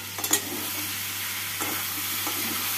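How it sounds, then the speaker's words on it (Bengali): Spiced masala for mutton keema curry being stirred in a pan with sugar, a steady low sizzle broken by a few soft spoon scrapes, close and moderately quiet with no talk. "চিনি দিয়ে ভালো করে নাড়াচাড়া করে নেব"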